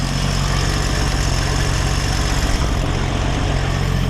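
A 1965 Ford Falcon engine runs at a steady idle, a loud, close, continuous rumble with a slight vibration, no voices.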